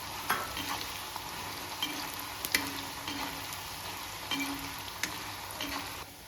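Chopped onions frying in oil in a pan for Kerala-style ghee rice, a steady soft sizzle with occasional light pops and crackles, fairly quiet and close, no talking.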